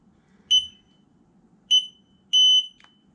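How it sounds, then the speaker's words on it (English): A Rhodan trolling motor control on a World Cat boat emits three sharp, high electronic beeps, two short ones about a second apart followed by a longer tone, clear and close over a low background hum. "Got your double beep again. It's going to keep beeping until you hit the off button."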